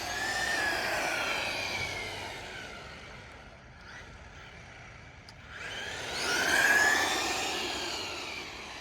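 A Traxxas Mini Maxx RC truck runs at full throttle, its high electric motor whine rising as it speeds past, dipping and fading in the middle, then surging back up loud and close.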